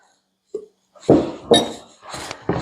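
A spoon stirring salt through homemade butter in a bowl, giving a few separate clinks and scrapes against the bowl in an uneven rhythm, close and fairly loud, with no talking.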